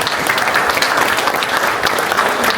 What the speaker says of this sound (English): let's give a round of applause to our police chief on that